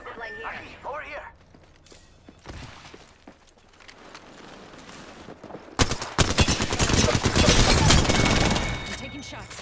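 Automatic weapon fire in the Apex Legends video game, a long, loud, rapid burst of shots in the second half, with a voice speaking earlier under quieter game ambience.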